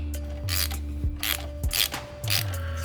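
A ratchet wrench loosening a bolt on the exhaust of a Honda CBR650R motorcycle, with several short bursts of close, rapid clicking separated by brief pauses and faint background hum.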